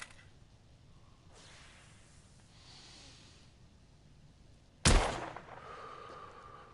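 A single sharp gunshot cracks out of quiet in The Order: 1886 video game, a sudden loud burst trailing into a brief rumbling decay, preceded by faint low ambient hiss.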